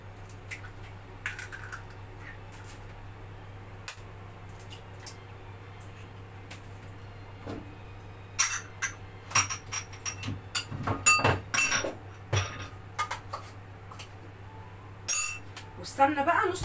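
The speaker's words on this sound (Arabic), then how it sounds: "وهنكسر البيض" Eggs crack into a bowl in a home kitchen during baking, with a few sharp clinks and taps on the bowl growing busier toward the end over a steady background hum.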